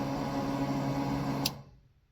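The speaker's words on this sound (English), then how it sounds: "that noise you heard was the fuel pump priming" Electric fuel pump priming on a 1954 Chevy 3100 truck with an empty tank, a steady faint hum that stops abruptly after a click, then silence.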